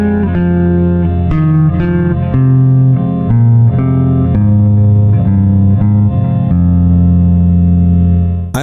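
An electric guitar phrase played across the strings in position, a steady sequence of sustained, ringing notes with heavy effects and reverb, loud and continuous without talk.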